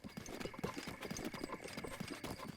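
Horse hooves clip-clop at a steady trotting rhythm in the video game Zelda Breath of the Wild, soft and even under a continuous background hum.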